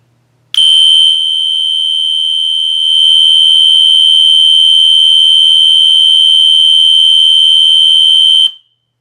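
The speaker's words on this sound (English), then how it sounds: "Alright guys, I set it to continuous. It's gonna be kind of loud." A late-1990s first-generation System Sensor Spectre Classic fire alarm horn sounds one loud, continuous piercing tone for about eight seconds, very close and alone, growing slightly louder partway through before it cuts off.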